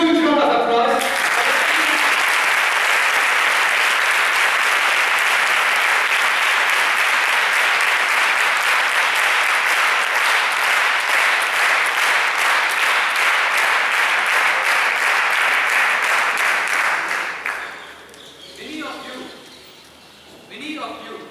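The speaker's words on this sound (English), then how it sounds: "So please, a huge round of applause." Audience applause after an orchestra competition performance at Sri Sathya Sai Institute, Brindavan. A sustained, loud, even roar of clapping runs for about seventeen seconds, then fades quickly into a quieter stretch with scattered sounds.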